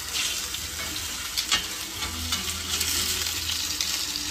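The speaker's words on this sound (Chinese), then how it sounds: "噼里啪啦的滋滋的声音，太美妙了。" Beef steak sizzles and crackles in a very hot pan, a loud, steady frying hiss with scattered pops running throughout, close and with no talk.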